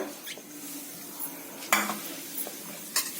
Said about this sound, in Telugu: ఇట్లా మిక్స్ మిక్స్ చేసేసి గట్టిగా మ్యాష్ చేసి వేస్తే పిండిలాగా అయిపోతుంది